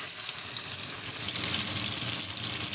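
Fish fries in a pan with a loud, steady, close hiss and crackle of oil that carries on unbroken throughout.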